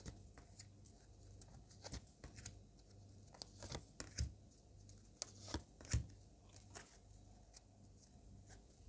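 Tarot cards being shuffled by hand in a quiet room: soft, irregular riffling and tapping bursts with crisp flicks and occasional small thumps, close and faint, with no talking.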